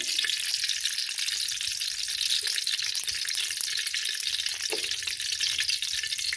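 Cumin seeds fry in about half a cup of cooking oil in a kadhai, a steady, dense hiss of sizzling that holds evenly throughout with a faint clink partway, no voices present.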